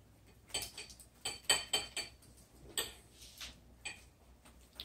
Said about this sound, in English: she goes for the mayo. Spreading around with a spoon